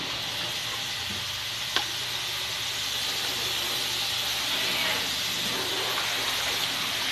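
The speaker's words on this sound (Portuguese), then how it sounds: "aqui a água depois do filtro chegando aqui no reservatório" Filtered car wash water flows into a reservoir with a soft, steady rushing hiss and a brief splash, heard up close at low level.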